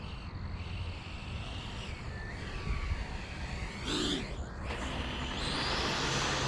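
An FMS Avanti 90mm EDF RC sport jet flies at about half throttle, its ducted-fan whine steady and fairly loud, with a rushing swell and pitch sweep as it passes by.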